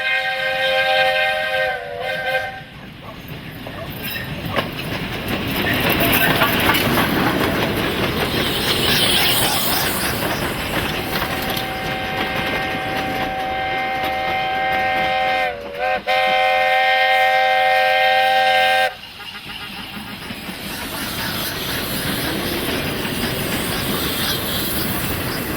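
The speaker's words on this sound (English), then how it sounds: "The double-headed train leaves Rayton for Cullinan." A double-headed steam train leaving Rayton for Cullinan rolls along the rails with wheel rumble and clatter, while sustained multi-tone whistle blasts sound close by, one early and a longer one midway.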